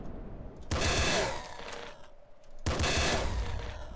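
A flame revolver fires in the video game Nuclear Throne in two loud, bright bursts, each a sharp crack trailing into a crackling whoosh that lasts about a second and a half, separated by a brief near-silent gap.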